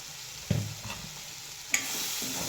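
Onion and tomato for chutney sauté in a pan with a soft, steady sizzle, while two spoon scrapes and clinks stand out against the frying.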